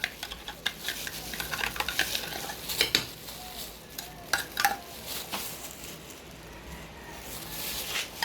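Afritada stirred in a pan, a utensil clinking and scraping against the metal over a steady sizzle, with frequent irregular strokes close by and fairly loud.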